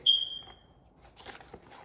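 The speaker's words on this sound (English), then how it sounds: "we have a smoke detector that needs some work." A single short high-pitched chirp from a faulty smoke detector rings out at the start, followed by faint quiet rustling.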